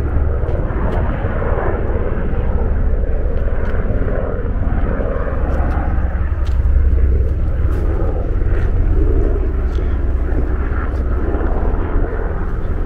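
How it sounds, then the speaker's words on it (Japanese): An airplane passes overhead as a loud, steady engine roar and low rumble that swells slightly midway, heard outdoors without talk. "こっちに飛行機、"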